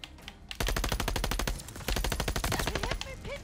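Rapid automatic gunfire in Call of Duty Vanguard, close, loud bursts of evenly spaced shots with a brief pause midway before firing resumes.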